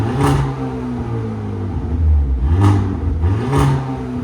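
A 2023 Hyundai Kona N with a 2.0L turbo, high-flow cat and aFe cat-back exhaust revs hard with its exhaust valve closed, a loud throaty engine swelling and falling in three sharp surges up close.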